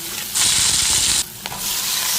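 Small shrimp and onion stirred and fried in hot oil, a close steady sizzle with a bright burst of frying hiss, then a brief scrape and quieter crackle as the pan is stirred.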